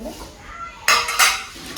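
Brass household vessels clink and clatter as they are handled, two bright metallic bursts close by with a short pause between, over a quiet room.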